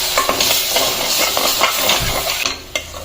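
Mochandori leaves are stir-fried in a wok with a splash of water for an Assamese fish dish. A dense, close hiss of frying runs throughout, with brisk scraping strokes from the spatula.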